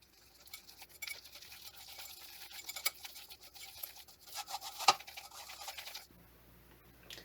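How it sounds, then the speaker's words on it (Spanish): A whisk beats the ingredients for fluffy Japanese soufflé pancake batter in a bowl, making soft, rapid scraping and ticking strokes, close but faint, broken by a sharper knock near the end. "Ahora vamos a batir todos los ingredientes."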